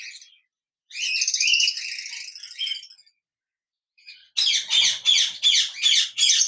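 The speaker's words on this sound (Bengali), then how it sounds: "যারা ডিএনএ সহ এক জোড়া পাইনঅ্যাপেল কুনুর পাখি খুঁজতেছেন" A pair of pineapple conure parrots calls in close, loud bursts: a stretch of shrill chattering squawks, a pause, then a run of five or six sharp, rhythmic screeches with no voices.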